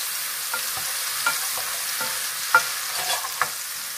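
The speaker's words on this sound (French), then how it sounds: "Je lance les petites crevettes. Et là, on y va bien sûr. On remue délicatement." Small shrimp sizzling in a pan with curry and cream-style mushroom cooking, a soft steady hiss with gentle repeated spatula strokes and a few light clinks against the pan, close and quiet with no talk.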